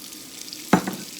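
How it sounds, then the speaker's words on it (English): Diced radishes hit hot bacon grease in a pan, giving one sudden sharp sizzling burst that quickly settles into a faint crackle over quiet background. "So I've got my grease hot here, my bacon grease. To this, I'm gonna add my diced radishes."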